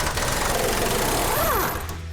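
Impact wrench tightening K-member bolts under a 1968 GTX car, a loud, continuous rapid rattling buzz with a brief rising and falling pitch sweep before it eases off.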